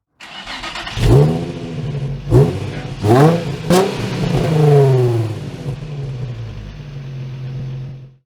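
A 2016 Ford Focus 1.5 EcoBoost Trend hatchback revs up through several rising engine pulls, each swell climbing in pitch before easing, then settles into a steady, loud drone close by with no one talking.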